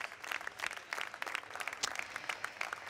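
Applause fills the Cortes de Castilla y León parliament chamber as a party group welcomes the regional president, a dense, steady clatter of many hands clapping throughout without voices.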